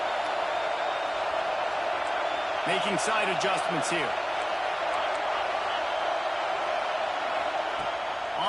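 Home crowd noise in a college football video game, a constant loud stadium roar under a commentator's voice, with brief shouts rising around the middle.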